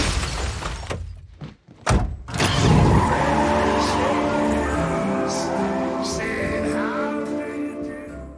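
A stolen Mustang tears off in a film scene. After sharp impact thuds, its engine settles into a loud, steady roar that runs throughout, with tire skids and scattered crashes mixed in and no speech.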